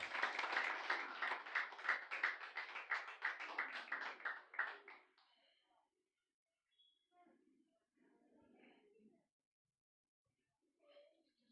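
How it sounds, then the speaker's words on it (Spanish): A church congregation claps together in a steady rhythmic burst of applause lasting several seconds, then fades to a few scattered faint sounds and quiet. "Dele las palmas al Señor y póngase de pie"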